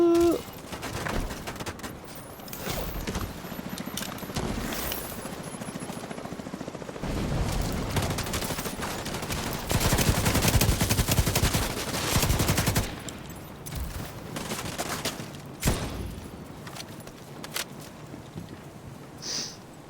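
Light machine gun fire in The Division 2 erupts in sustained bursts and scattered shots over busy game noise, loudest mid-clip, with no talking.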